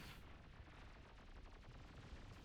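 A rumbling explosion with a dense crackle of gunfire and artillery plays out in the strategy game Beyond All Reason as towers are destroyed, heavy low booms repeating under a continuous barrage, very faint overall.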